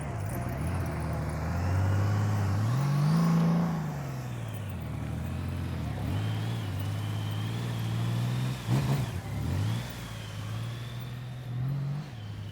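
A motorcycle engine idles and rumbles at low speed during advanced slow-speed riding practice, with continuous close engine drone, gentle throttle rises and dips, and a brief louder clatter midway.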